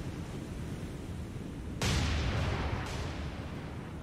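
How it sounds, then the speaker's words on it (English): Naval artillery spotting fire in the War On The Sea game, a single sudden heavy blast bursting over a steady rushing sea-like background, followed by a softer second report and fading rumble. "Go with spotting fire."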